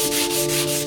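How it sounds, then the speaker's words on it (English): Sanding with 320 grit sandpaper on part of a UNIC Royal radio during restoration, a close, steady rasping rub with a faint back-and-forth pulse that fills the whole short clip. "I'll sand it off. I've got some 320 here."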